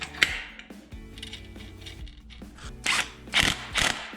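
A clutch going onto a 212 Ghost small engine gives close metallic clicks, clunks and ratcheting rattles, scattered and irregular, with a louder cluster of sharp hits toward the end.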